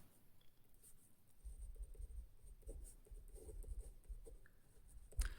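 Pen scratching and tapping on paper while a maths problem is worked out, a steady close scribbling texture with short strokes and pauses, no voice.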